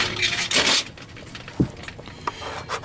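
Scraping residue off a part of a Miele SEB 213/217 power nozzle, a series of short dry rubbing and rasping strokes, close and irregular, with small knocks between.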